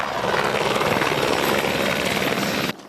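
A helicopter hovers over the sea near Hawaii during search-and-rescue training in the 2024 Pacific military exercise, its rotor a loud, close, continuous roar that cuts off abruptly just before the end.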